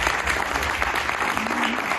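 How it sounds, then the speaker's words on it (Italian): A conference audience claps in a steady, dense burst of applause that fills the whole short moment at an even loudness. "ce l'avete un applauso anche"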